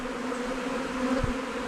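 A swarm of honeybees hums steadily in a tree, a dense, continuous outdoor drone with no pauses and no voices.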